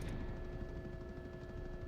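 Rapid minigun fire in the video game Battlebit, a dense continuous rattle of shots that runs steadily for about two seconds, fairly loud and alone with no voices.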